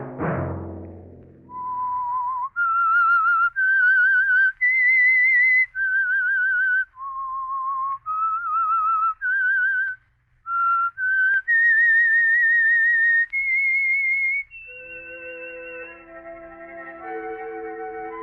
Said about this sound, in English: Let that whistle be your signal for the Signal Oil program, The Whistler, each Monday at 9.